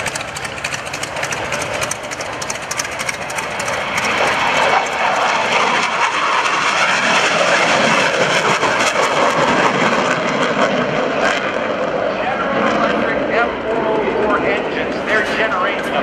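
An F/A-18C Hornet roars on max afterburner at the 2015 NAS Oceana airshow, a loud, continuous jet blast that swells and holds for the whole stretch while a voice talks over it.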